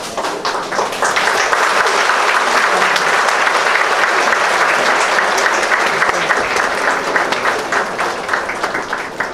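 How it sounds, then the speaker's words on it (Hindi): An audience at an open-house music riyaaz event breaks into loud, sustained applause, a dense and even roar of many hands clapping that lasts the whole stretch. "ये ताली मैं जानती हूँ मेरे लिए नहीं थी"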